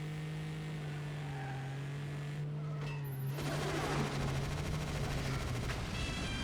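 Rapid machine gun fire bursts out in the shooter game 007: Agent Under Fire, a dense rattling volley rising over a steady engine drone in a vehicle pursuit mission.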